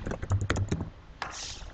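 A quick run of light keystrokes on a computer keyboard, typing a few letters into a form field, followed by a brief soft rustle, close and fairly quiet.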